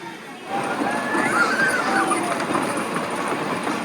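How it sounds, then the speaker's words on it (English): A train at Kennywood amusement park rumbles past with a broad, steady roar and faint squealing wheel tones rising over it, fairly loud and continuous. "There's a train going there."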